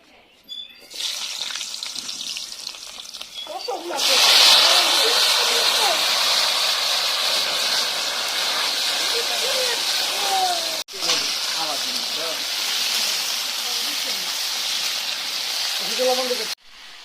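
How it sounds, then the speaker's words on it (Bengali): Potatoes for aloo dum frying in hot oil, a loud continuous hiss and sizzle that starts abruptly, carries on with faint clattering, dips briefly midway and then stops suddenly. "দমের আলুগুলো ভেজে নিচ্ছি।"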